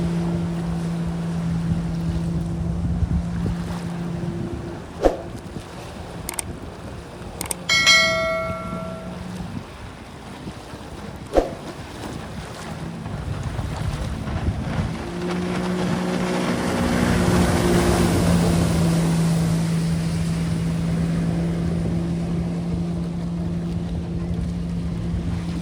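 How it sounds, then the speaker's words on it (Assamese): A jet ski engine drones on a river in Assam, a steady motor hum whose pitch shifts as it runs, with a few sharp clanks and brief tonal chirps before the engine swells louder near the end. "চাওক দূৰত গৈ আছে জেট স্কি"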